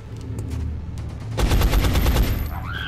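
Rapid automatic gunfire bursts out in the XCOM: Enemy Unknown video game, loud and rattling over a rumbling background for over a second.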